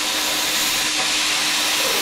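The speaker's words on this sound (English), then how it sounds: "the pilot arc is just igniting all the time." Bestarc BTC500DP plasma cutter with its pilot arc igniting on its own without the trigger pressed, a steady loud hiss like rushing air or steam that fills the whole span without a break.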